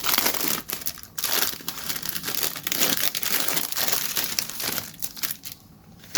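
A December cash-stuffing budget envelope is torn and opened, giving close, loud crinkling and crumpling paper sounds in irregular bursts throughout.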